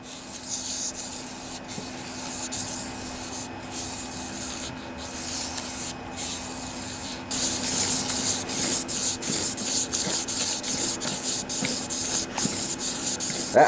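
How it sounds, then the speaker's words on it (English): Melted aluminum is sanded off a crankshaft by hand, producing steady back-and-forth rasping strokes that are close and fairly loud, growing stronger and more regular partway through. "That way you can evenly sand it down."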